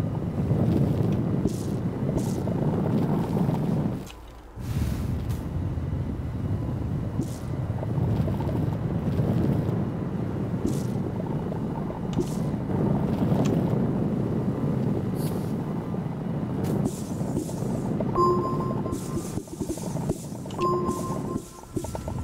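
A tractor in the video game Astroneer drives along with a continuous rumbling, whooshing engine drone, broken by a brief dip and some faint clicks and tones near the end.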